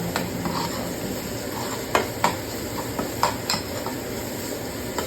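Bean sprouts stirred and fried in a pan with carrots, a steady close sizzle running throughout, broken by several sharp scraping clinks of a utensil against the pan.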